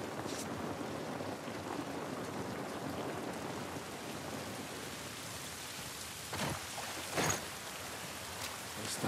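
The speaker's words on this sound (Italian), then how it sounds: "Questa pioggia non va bene." Steady rain falls in The Last of Us Part I video game, a dense even hiss of drops on surfaces with a few louder splashes or thumps near the end, continuous and close.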